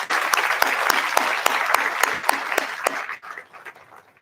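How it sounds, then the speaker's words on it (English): Audience applause for the speakers at an inclusive growth forum in Drakensberg, steady dense clapping from a crowd with sharp individual claps standing out, tapering off over the last second. "Can we please give them another round of applause?"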